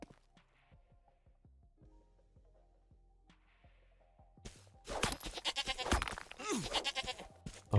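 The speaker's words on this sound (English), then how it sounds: "Sorry for slaying this goat." A goat bleats in a video game, several loud wavering cries close by after a quieter stretch of soft footsteps and small game sounds.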